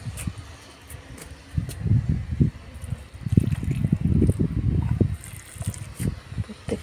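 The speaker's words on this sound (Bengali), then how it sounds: "জল দিতে বাকি ছিল" Water poured onto potted winter flower plants such as marigolds, coming as irregular soft gushing splashes in several bursts over a faint background hiss, fairly quiet and close.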